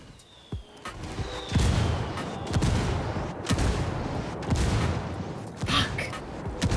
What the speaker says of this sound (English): They're going after with the mortars.